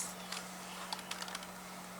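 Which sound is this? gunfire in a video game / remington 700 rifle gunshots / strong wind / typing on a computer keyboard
typing on a computer keyboard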